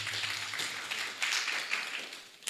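Quiet, scattered clapping from a small morning gathering in a conference room, several soft bursts that rise and fade unevenly.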